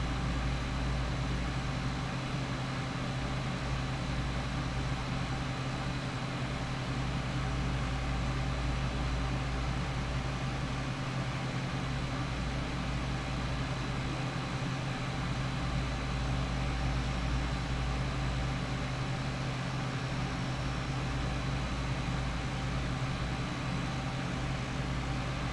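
A 3/8 hp SS Brewtech glycol chiller runs with a steady, loud mechanical hum and broadband whoosh of its fan and compressor, unchanging and continuous, with no voices.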